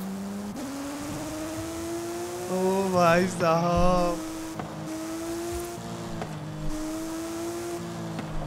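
A Porsche 911 Carrera S with a naturally aspirated engine idles with a low hum, then snaps into a sharp, rising rev burst that falls back to idle; a man calls out briefly over it.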